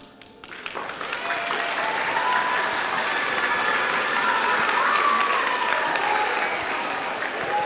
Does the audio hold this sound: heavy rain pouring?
no